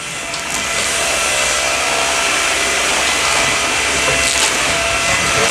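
A Samsung Jet VS70 cordless stick vacuum runs on a low setting over a dirty carpet mat. It gives a loud, steady whooshing motor and airflow roar that ramps up in the first second and then holds evenly, with no voices.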